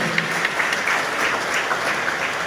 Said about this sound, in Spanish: Un aplauso hermanos